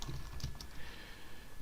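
Keys clatter in an irregular run as someone types a sentence on a computer keyboard, with quick clustered clicks over a steady background hiss.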